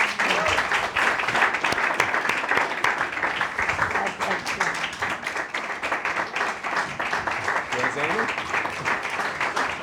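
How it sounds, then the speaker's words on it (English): Audience applause for a guest speaker, sustained clapping from many hands, loud and continuous for about ten seconds, with voices mixed into it. "One more time, a round of applause for an extraordinary woman."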